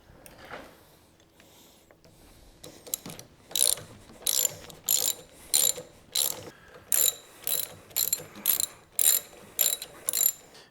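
A ratchet wrench tightens Harley factory bolts on aftermarket TCMT forward controls of a motorcycle, with close, loud bursts of rapid clicking repeated about a dozen times in a steady rhythm, with brief pauses between strokes.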